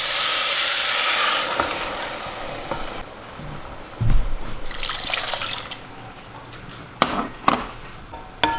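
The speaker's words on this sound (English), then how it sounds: "I'm going to go ahead and add my water." Water pours into a pot with a splashing rush, then quieter trickles, followed by a few knocks and clatters of cookware.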